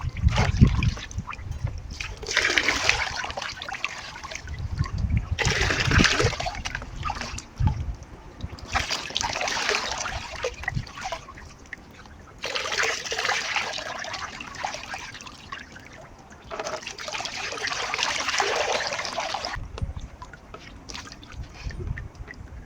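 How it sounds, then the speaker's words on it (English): Water trickles and splashes as hair worn in plaits or twists is wetted, in about five rhythmic bursts of pouring with brief pauses between, close and fairly steady. "So I'm going to just wet my hair with water, guys."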